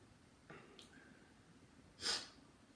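A sick person sniffling indoors: two short, faint nasal sniffs, with a sharper, louder snort-like sniff about a second and a half after the first.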